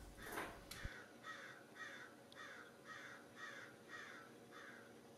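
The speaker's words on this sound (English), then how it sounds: "Other birds have a less musical sound, like this crow that we found in our neighborhood." A crow in a residential neighborhood gives a series of about nine harsh, evenly spaced caws, moderately distant, after a brief rustle and a thump at the start.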